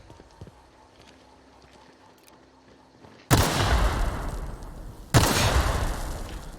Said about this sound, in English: this one was kind of a medium explosion